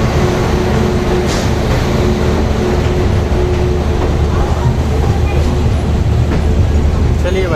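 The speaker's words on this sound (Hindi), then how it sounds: "4:20 पे डिपार्ट करने को रेडी हो चुकी है हमारी स्पेशल ट्रेन।" Special train pulling out of Amritsar Junction, heard as a loud, continuous rumble of rolling wagons with a faint voice mixed in.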